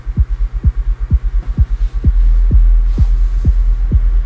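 Deep, tuned kick drum thumps repeat in a steady pulse over a throbbing low hum, LFO-modulated, that swells and wobbles, the bass growing denser midway.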